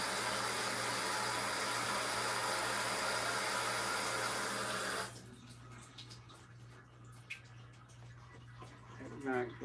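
Lukewarm tap water runs in a steady, loud hiss for about five seconds, then cuts off, leaving a quiet kitchen with small clicks and handling noises.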